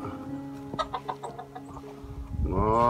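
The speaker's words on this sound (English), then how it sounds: "Chickens are all put up." Chickens shut in their coop on a snowy mountain homestead give low, close clucks and soft murmuring calls, and one bird breaks into a louder, rising squawk near the end, with no talking.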